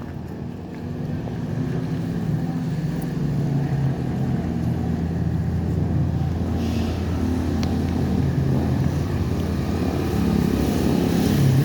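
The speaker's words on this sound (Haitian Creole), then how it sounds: "c'est quelques motocyclettes qui commencent à fréquenter la route là" Motorcycles travel along a road, their engines forming a steady, fairly loud drone that swells slightly toward the end, with no speech over it.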